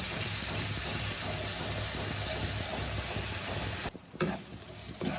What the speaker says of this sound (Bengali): অল্প জল দিয়ে মশলাটাকে কষাবো।